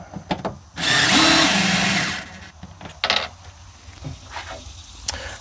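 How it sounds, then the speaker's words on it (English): A power drill backs screws out of a cabinet in a 2025 Deneb XT modular camper, giving one loud, close whirring burst of about a second, then shorter spins, clicks and tool handling. "we'll remove these screws. It's actually just 3 screws."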